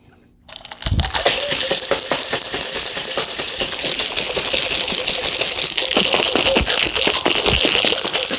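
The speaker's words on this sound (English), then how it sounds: "Now we'll shake again with ice." Ice rattles hard inside a cocktail shaker while a flip cocktail is being made, a fast, steady, loud clatter that starts after a brief pause and continues without a break, alone.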